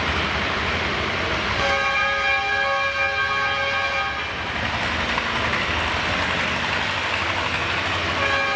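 A horn blows at a classic tractor pull in Chatham as a puller passes the halfway point, holding a steady loud tone for a couple of seconds over constant engine roar and crowd noise.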